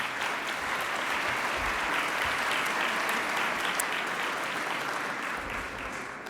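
An audience at a Quebec entrepreneurship gala in Montreal applauds in a dense, sustained wash of clapping that holds steady before easing slightly at the end.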